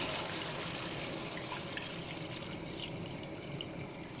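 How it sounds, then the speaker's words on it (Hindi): About three to four glasses of water pour steadily into a pot of chicken neck curry, a continuous soft rushing stream, close by, with no talking. "और अब इसमें मैं शामिल करूँ तकरीबन 3 से 4 गिलास पानी"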